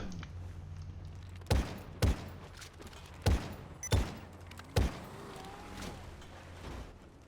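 Five heavy gunshots from the video game FiveM, fired in uneven succession over a low steady background hum, each a sharp loud crack with a short tail, the last ones followed by faint whistling tones.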